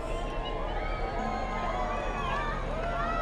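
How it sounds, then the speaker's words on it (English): An excited crowd outdoors during a total solar eclipse, with a continuous babble of many voices and rising shouts filling the air at close range. "Crowd's getting excited."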